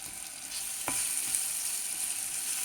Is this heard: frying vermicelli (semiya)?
yes